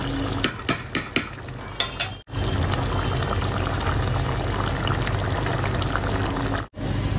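Spice paste being added to a fish curry cooking in a pan with lemon leaves: a few sharp utensil clinks up front, then a steady close sizzling and bubbling hiss that carries on to the end.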